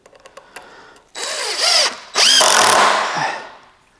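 A cordless power drill drives screws into a wooden outboard motor stand in two loud, rising whirring runs, each slowing as the screw seats, after a few light taps.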